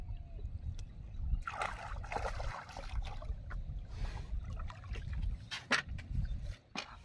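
A boat on the Kaljani river glides through water, with soft sloshing and lapping against the hull under a low rumble, plus a few sharper knocks and splashes at a moderate distance.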